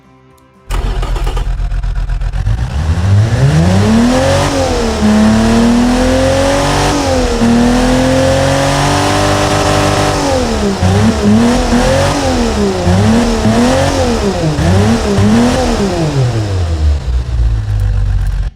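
A Mercedes-Benz M104 2.8L engine with an upgraded exhaust revs hard and repeatedly in the Automation game, pitch climbing and dropping with throttle blips over a steady loud rumble, no talking.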